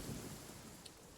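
Steady rain hiss in a video game, a faint, even wash of falling water with no voices and no distinct drops standing out.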